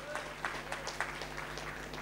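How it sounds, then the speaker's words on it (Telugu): A church congregation claps in a service at Rock Church, Masab Tank; scattered, quiet handclaps come in loose bursts over a low room hum. "గట్టిగా చప్పట్లు కొడుతూ దేవుని నామాన్ని మహిమపరచండి"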